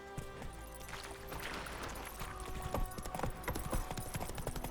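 Steady rhythmic hoofbeats of a horse galloping along in the video game The Witcher 3, clip-clopping continuously at moderate volume with faint background ambience and no talk.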